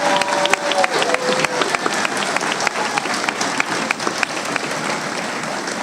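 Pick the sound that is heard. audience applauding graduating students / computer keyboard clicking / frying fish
audience applauding graduating students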